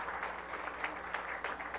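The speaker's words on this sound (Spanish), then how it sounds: "Vamos a darle un fuerte aplauso a ellos también." Audience applause at a flag-bearing ceremony for Venezuela's World Baseball Classic team, a steady wash of clapping that holds across the whole moment without a break, moderately distant and fairly soft.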